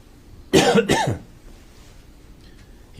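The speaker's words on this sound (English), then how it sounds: "He coughs at certain times in his testimony that makes it look like it's a tell." A man gives two short, sharp coughs in quick succession during testimony in a courtroom, close and fairly loud, followed by a quiet room.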